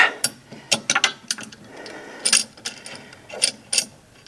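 A clamp ratchets and clicks as it is tightened down onto a reference surface while making a belt grinder platen, in a series of short metallic clicks and taps close by with small pauses between them.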